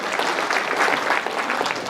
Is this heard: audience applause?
yes